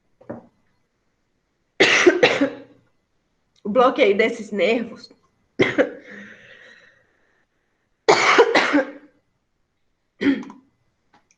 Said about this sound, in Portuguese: Ai, gente, desculpa, eu tô tossindo muito.